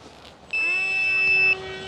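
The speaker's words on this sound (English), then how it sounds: "The beeps you're hearing are coming from the transmitter." An RC radio transmitter for a Prodigy 1.4m model plane sounds a steady electronic beep after a short pause, holding one high tone for about a second before cutting off, with a faint hum beneath.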